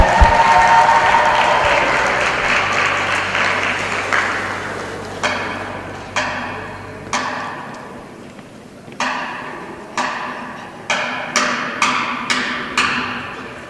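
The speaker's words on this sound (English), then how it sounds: "A round of applause." An audience at Norristown Area High School's Diversity Day applauds the school drumline. Loud clapping fades within a few seconds, followed by a series of sharp, separate percussive hits at uneven intervals.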